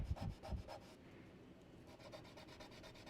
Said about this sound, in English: I'm just going to use my sanding eraser just to kind of lighten up some of that ink that I got on there